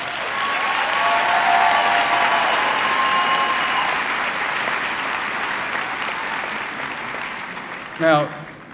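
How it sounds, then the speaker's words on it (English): Sustained crowd applause at a 2018 Martinsville High School graduation ceremony, a dense steady clapping that holds loud for several seconds, gradually thins, and ends with a brief voice near the close. "So give them a round of applause."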